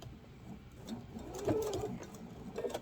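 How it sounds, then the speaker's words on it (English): A sewing machine running a half-inch seam around a fabric grocery bag, sewn from the inside: a soft, continuous whirring chatter that rises a little mid-stitch, fairly quiet, with no talk. "I'm sewing from the inside of the bag because it's easiest for it to lay down."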